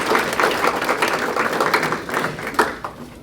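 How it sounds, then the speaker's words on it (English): An audience at a spring grant celebration applauds. The clapping is dense and steady, fairly loud and close, holds through the whole stretch and only begins to thin slightly near the end. "Give them a round of applause."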